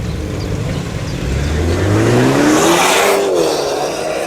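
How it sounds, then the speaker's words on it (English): A BMW engine revs hard at a busy Cars and Coffee breakfast meet, a loud rising growl climbing in pitch over about two seconds before easing off, with other cars idling in the background. "it's one bad sounding BMW"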